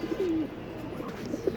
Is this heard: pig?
no